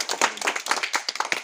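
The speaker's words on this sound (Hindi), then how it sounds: "ताली बजाओ इनकी।" Children in a primary school classroom clap together in quick, uneven bursts, close and lively, a short round of clapping with no talking.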